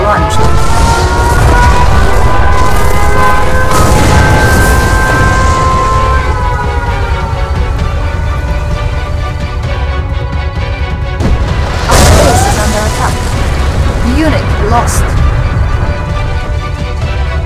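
A nuclear missile launch and explosion in the Command & Conquer: Red Alert video game, a loud continuous rumbling roar with tonal whooshes, then a heavy blast and crashing debris near the end, dense and sustained throughout.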